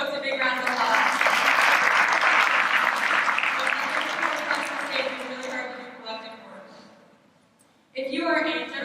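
An audience applauds, a dense burst of clapping that starts loud, tails off over several seconds into near quiet, and is then cut off as a speaker resumes talking.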